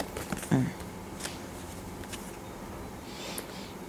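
Tarot cards shuffled during a reading, a brief soft riffle near the start and then faint papery rustles, quiet against background room noise.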